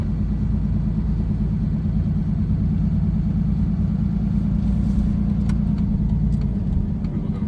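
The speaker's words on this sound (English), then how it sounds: "This truck shifts absolutely amazing." Low, steady engine rumble from a 1998 Dodge Ram 2500 Cummins diesel pickup with a 5-speed manual, driving along, a smooth continuous drone heard from inside the cab.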